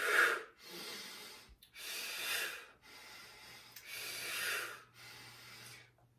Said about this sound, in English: I'm engaging everything and listen to my breathing